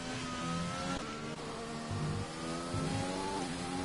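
A Ferrari race car engine in a sim racing game at an Australia round, droning loud and steady at high revs with brief dips as gears shift, no voices over it.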